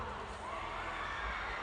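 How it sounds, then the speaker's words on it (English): A large crowd at a concert on the Manifesto tour in Atlanta screams and cheers continuously, a dense distant roar of high-pitched voices filling the whole stretch without pause. "you just hear people screaming"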